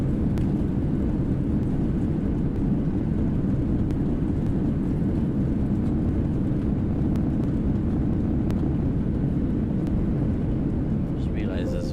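Boeing 737-800 jet noise from the X-Plane 11 flight simulator, a loud steady low rumble of engines and airflow played through speakers, continuous for the whole stretch with faint clicks on top.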